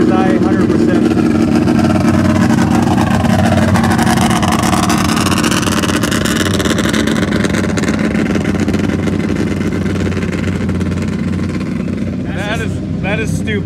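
A Can-Am Maverick X3 engine with a straight, unmuffled exhaust roars continuously up close at a mud racing event, its pitch wavering as it revs, with a voice speaking briefly near the end.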